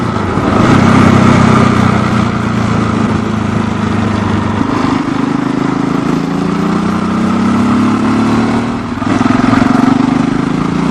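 A Yamaha XT 660 Z motorcycle engine drones steadily on a test ride, a loud continuous rumble with rising and falling pitch as it pulls through gears, a brief dip near the end before it surges again.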